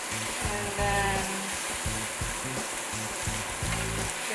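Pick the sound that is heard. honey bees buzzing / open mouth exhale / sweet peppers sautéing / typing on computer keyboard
sweet peppers sautéing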